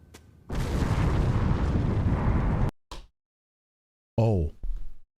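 An explosion in an episode of the Jujutsu Kaisen anime, Season 3 Episode 8: a loud, roaring blast holds for about two seconds, then a short thump, a silent gap, and a brief tonal burst.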